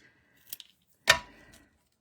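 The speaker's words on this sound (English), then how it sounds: "I'm gonna have to cut a little bit off of that." A single sharp snip of scissors cutting through a piece of cardstock, preceded by a couple of light clicks and followed by a brief rustle as the cut piece settles, close and fairly quiet.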